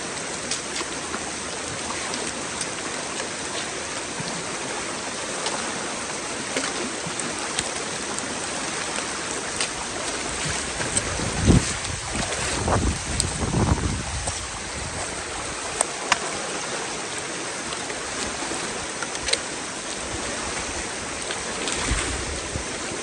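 Steady rushing water flows continuously, a broad wash of current with occasional louder surges and splashes, no voices.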